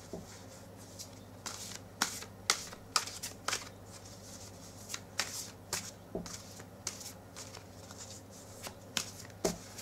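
Playing cards shuffled for a draw, with crisp riffling and tapping in irregular clusters of sharp clicks at close range against a steady low hum, and no voices.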